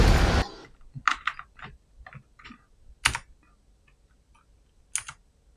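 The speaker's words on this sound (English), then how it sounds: "think my keyboard's having issues." Someone types on a computer keyboard that may be faulty. A loud burst of noise opens, then sparse, uneven key clicks and taps follow close by with quiet gaps between them.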